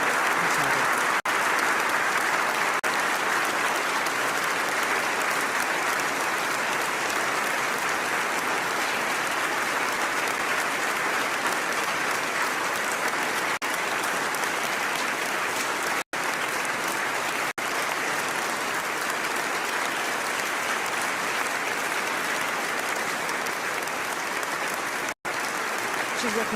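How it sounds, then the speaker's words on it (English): Sustained applause from guests fills Oslo City Hall after a Nobel lecture, a steady dense roar of many hands clapping at close range, continuing unbroken with only brief dips. "And the applause continues."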